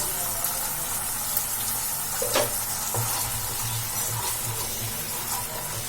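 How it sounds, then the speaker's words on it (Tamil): Curry leaves crackle and fry in hot oil in a pan for a semolina paniyaram breakfast, with a continuous close sizzle and occasional scraping stir strokes. "கருவேப்பிலை போட்டு நல்லா மிக்ஸ் பண்ண பிறகு"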